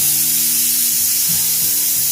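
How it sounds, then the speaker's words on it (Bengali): Homemade fuchka puris deep-fry and puff in hot oil, a loud, even hiss of sizzling close up with a few soft bubbling bursts, no voices. "এই দেখো কত সুন্দর মুচমুচে ফুচকা হচ্ছে আর কত সুন্দর ফুলছে দেখো।"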